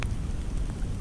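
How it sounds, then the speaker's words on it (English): Steady rain falls during a cold fishing trip, giving a close, continuous hiss and patter with a few sharper drops and no speech. "I'll be glad when that rain stops."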